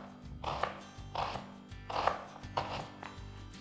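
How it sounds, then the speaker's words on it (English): Knife slicing through an onion for soup on a board, giving about five separate crisp cutting strokes in a steady rhythm, close and moderately loud, with no talking. "Let's start by slicing an onion."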